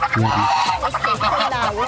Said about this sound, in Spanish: una pareja de gansos chinos